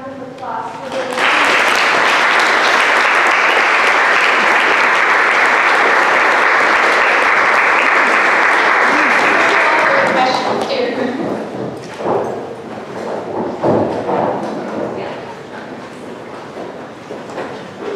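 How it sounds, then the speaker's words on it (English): A symposium audience applauds loudly and steadily for about nine seconds, then the clapping fades into scattered claps and murmuring voices. "just give a round of applause for the"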